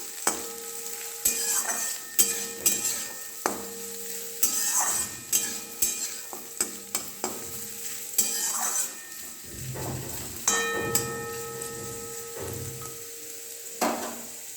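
Carrots frying in a pan for chicken fried rice, under a continuous close sizzle with repeated rhythmic clinks and scrapes of a metal spatula stirring against the pan.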